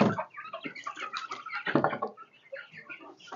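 Chickens clucking together in a dim backyard coop, a steady mix of close, overlapping clucks and soft calls with no talk over them.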